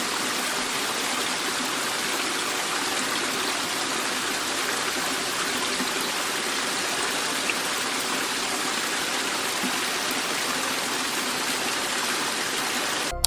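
Flash flood water rushes toward a railway line in heavy rain with a steady, loud, broadband roar, continuous and unbroken throughout.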